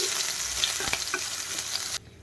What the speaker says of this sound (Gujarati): આ બધાને આપણે સાતડી લઈશું